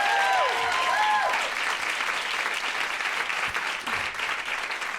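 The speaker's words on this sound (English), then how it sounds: "So please give them a round of applause." Audience at a live podcast show clapping together, a dense burst of applause that is loudest at the start and stays steady throughout, with brief tones near the beginning and some crowd noise mixed in.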